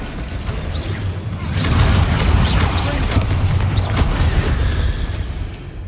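The Bombarda spell explosion in Hogwarts Legacy, a broad rumbling blast with whooshing debris that swells around the second mark and rolls on loudly, with a spoken word near the start.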